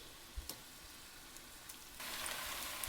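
Beef tenderloin, about a kilogram, searing in a hot pan for a curry, a faint steady sizzle with a few soft knocks, swelling slightly louder near the end.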